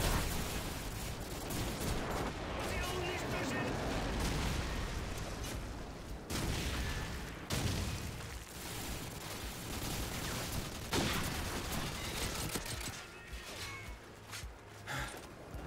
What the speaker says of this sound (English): That airstrike's coming right for me.